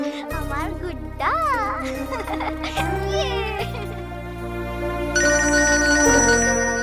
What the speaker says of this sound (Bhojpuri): अरे आभा के फोन आवा था